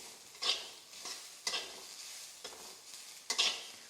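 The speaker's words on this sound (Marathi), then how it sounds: "कांदा छान भाजून निघतो" Chopped onion roasting in a kadhai for homemade onion-garlic masala, with a utensil scraping and stirring in about four distinct strokes over a soft, low sizzle, close and fairly quiet.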